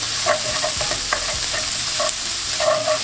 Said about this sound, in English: Grab a pan and turn the heat to medium. Add a good touch of oil. And with the chorizo or beef pancetta.